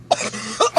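A person coughs sharply two or three times in quick succession, close up in a quiet room, each cough with a rough throat-clearing edge.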